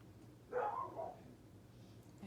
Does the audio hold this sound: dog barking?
yes